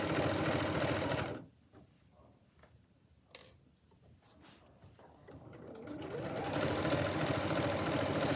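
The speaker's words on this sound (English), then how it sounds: "Sewing all the way back down to here" A sewing machine stitches along an adjustable apron, running loud and close for a second at the start, going quiet for several seconds, then building back into a steady whir that lasts to the end.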